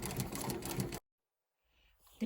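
A sewing machine stitches a fabric cosmetic bag with a fast, steady mechanical rattle for about a second, then stops abruptly and leaves near silence with faint handling noise.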